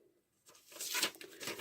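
Thin, transparent vellum paper from a junk journal is handled, giving a close crisp rustle and light crinkling that swells after a brief quiet start.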